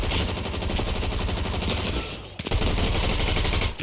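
Rapid submachine gun fire in a video game, an unbroken loud rattling burst lasting nearly four seconds with a brief dip in the middle.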